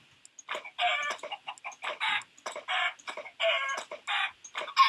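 Chickens clucking in a farming video game, a close run of rhythmic, repeated clucks and squawks in short bursts with brief gaps, no talking.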